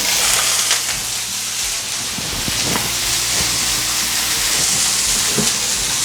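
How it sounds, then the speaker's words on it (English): Two pounds of ground meat sear in a smoking-hot pan of avocado oil over medium heat, a loud, continuous sizzle and hiss with small pops throughout. "I have some avocado oil in my pan over medium heat, and I'm gonna add my meat now that it is nice and hot."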